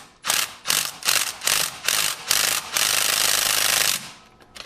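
Close, loud ratchet clicking as a 13 mm socket loosens exhaust manifold studs on a Ford Explorer 4.6L 3V, in a string of short cranking bursts followed by one long continuous run, with no talk.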